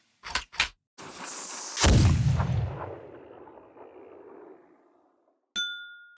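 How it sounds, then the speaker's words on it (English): Cannon firing effect: a couple of sharp clicks, then a heavy booming blast that rolls and decays over several seconds, ending with a bright metallic ding, with no voices over it. "Let's load up the book cannon."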